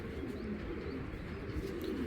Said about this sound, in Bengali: বিগ সাইজে একটা হোয়াইট ট্রেসার মাদি